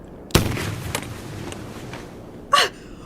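A gunshot in a radio drama: one sharp, loud crack, followed by quieter faint clicks and rustles, then a second brief burst near the end.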